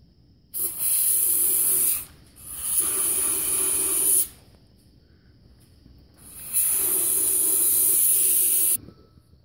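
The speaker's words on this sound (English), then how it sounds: "I'm gonna spray it with brake clean" Three long, loud bursts of aerosol brake cleaner hiss up close onto rear differential gears, each lasting about one and a half to two seconds, separated by short quiet gaps.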